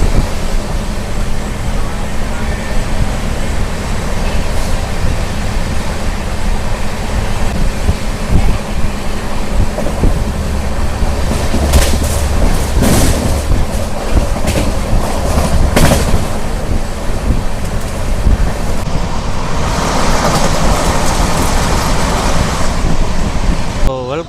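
The Telangana Express passes through Peddapalli junction without stopping, giving a loud steady rumble with rattling carriage noise and brief clanks heard from on board, with faint voices in the background.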